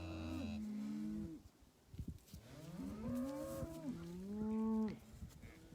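Farm cattle moo in several long, drawn-out calls, loud and close, with shorter grunts and rustling in the gaps between lowing voices.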